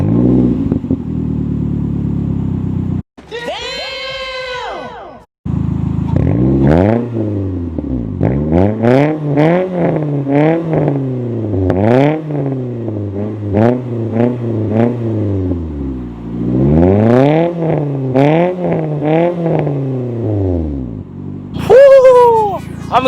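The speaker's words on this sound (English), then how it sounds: "We're about to go rev it up a couple times and show you guys what it's like." Car fitted with a Top Speed Pro 1 exhaust revved repeatedly, with sharp climbing and falling engine sweeps over about twenty seconds, loud and close, with a short pause near the start.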